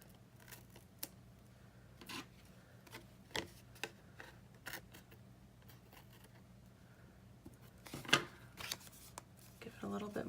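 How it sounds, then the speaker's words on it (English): Scissors trim excess paper off a handmade pinch page marker: a few sparse, crisp snips and paper rustles spaced over several seconds, quiet and close, with a busier cluster of cutting sounds near the end. "And trim off the excess."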